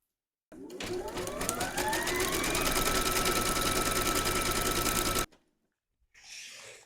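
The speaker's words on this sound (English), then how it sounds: "Pop your hoop into your machine and stitch round number 3 to secure them." An embroidery machine stitches a round on a hooped hexagon bag panel, a loud steady rapid mechanical chatter with a rising whir that runs about four and a half seconds, then stops abruptly, followed by a brief quieter rustle.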